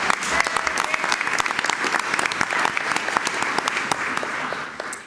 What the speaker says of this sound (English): if we could give a clap for James